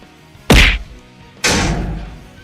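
Two heavy punches land in a Captain America versus Iron Man fight, each a sharp, loud thud with a short decaying tail, spaced about a second apart.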